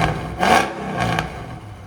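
A 2004 Mercedes E55 AMG fitted with headers and an X-pipe revs in two quick bursts, loud and close, and each burst drops back to a rumbling idle between them.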